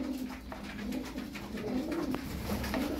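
Tumbler pigeons cooing, soft repeated throaty coos close by over a low, steady background rumble.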